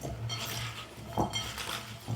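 Potatoes being tossed with olive oil and spices in a bowl, a steady clinking and scraping of utensil against the dish throughout, close and moderately quiet, with a couple of sharper knocks.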